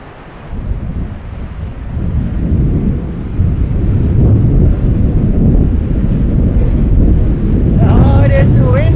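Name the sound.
strong wind on mountain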